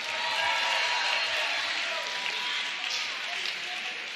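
Audience applause and cheering fill a talent show crowd at an Indian community event, a dense, steady wash of clapping that stays loud throughout with no single voice standing out.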